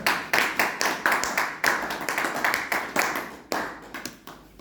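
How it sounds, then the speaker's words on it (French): A church congregation claps rhythmically in praise, with sharp, steady, fairly close hand claps repeating throughout at an even tempo. "Est-ce qu'on peut acclamer pour le Seigneur?"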